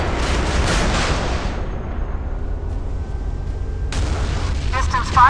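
A warship's rocket launcher firing in Modern Warships, a sustained loud roaring rush of launch blasts that drops away mid-clip and then surges back, dense and near.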